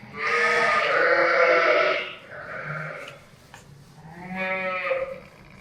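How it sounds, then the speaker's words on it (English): Two big newborn twin lambs bleat at lambing time, close and loud: a long wavering bleat, then a softer pause and a second quavering cry, with no talk over them. "Like, Mark, that's two big lambs."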